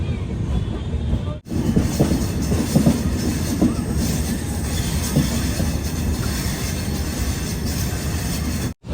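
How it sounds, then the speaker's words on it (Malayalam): The Samata Express from Visakhapatnam rolls into Raipur, heard from inside a sleeper-class coach as a loud, continuous rumble with faint clickety-clack and wheel squeal, cut by two brief dropouts. "റായ്പൂരിലേക്ക് ഇതാ നമ്മുടെ ട്രെയിൻ എത്തിക്കൊണ്ടിരിക്കുകയാണ്."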